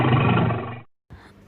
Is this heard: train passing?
no